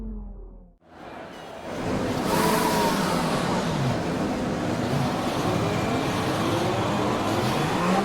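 An F1 race car engine in the video game F1 2020 at the Canadian Grand Prix roars up after a brief quiet moment and holds a loud, steady high-revving drone with shifting pitch and no talk.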